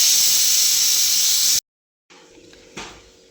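A pressure cooker cooking rice gives a loud, steady hiss of escaping steam that stops abruptly, followed by a short silence and then quieter background noise with a brief louder burst.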